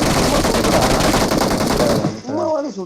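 Continuous loud machine-gun fire in a video game, a sustained dense burst that cuts off near the end as a voice speaks over it.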